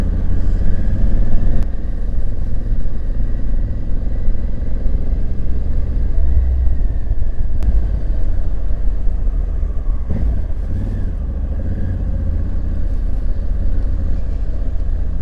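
Honda Africa Twin 1100 motorcycle rolling at slow speed under light throttle, a steady low engine drone with rumbling wind and road noise throughout, loud and close, with no talk.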